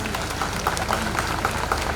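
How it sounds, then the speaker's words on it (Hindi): Clapping from a crowd honours a family at a memorial gathering, steady and fairly close, with some voices mixed in beneath the applause. "मैं चाहूँगी कि एक ज़ोरदार ताली इस परिवार के लिए हो जाए"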